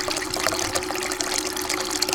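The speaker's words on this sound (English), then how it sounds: "the water then drains through this tailings bucket into this outer bucket here" Water drains through a tailings bucket on a gold-recovery rig, running into an outer bucket and back to a pump. It gives a steady, fairly loud trickling splash with a constant tonal hum beneath, and no talk.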